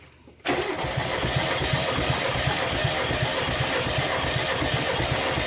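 A Mazda Miata engine being cranked over by the starter during a compression test, a sudden start into a steady rhythmic chugging drone that continues loud and close without ignition.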